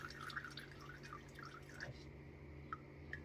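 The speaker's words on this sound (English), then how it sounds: "Or you can sit and wait and just let it drain on its own." Melted brisket fat drips through a coffee filter as tallow is rendered, making soft, close, irregular plinks and trickles over a faint low hum, with no voices.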